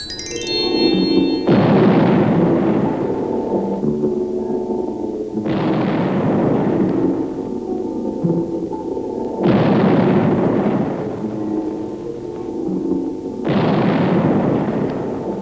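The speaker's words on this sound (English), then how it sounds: "Keep your eyes and ears peeled during the riveting takeoff." A rocket takeoff in the film Nude on the Moon, four loud roaring blasts of rumbling noise, each lasting a couple of seconds and spaced about four seconds apart, with a low hum between them.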